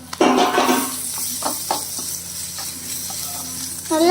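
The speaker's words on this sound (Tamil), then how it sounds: "நல்லா வதக்கிக்கலாம்." Eggs and tomato for egg biryani sizzle and fry in a pan while a spoon stirs and scrapes through them in several distinct strokes, close and steady with no talking.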